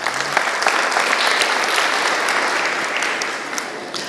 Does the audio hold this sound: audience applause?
yes